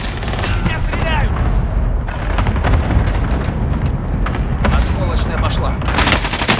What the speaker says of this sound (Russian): Союзник начал кластерную бомбардировку.